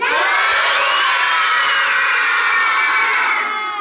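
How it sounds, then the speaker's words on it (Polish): A group of preschool children at a preschool theatre festival shout their names all at once, very loudly, in a sustained burst of overlapping young voices close by. "Każdy na 3-4 krzyczy bardzo głośno swoje imię."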